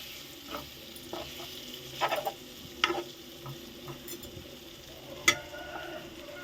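Okra and prawns frying in a pan while being stirred, a soft steady sizzle under quiet scrapes and a few sharp spoon clicks against the pan, close and faint.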